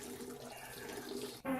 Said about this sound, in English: I got up, started the shower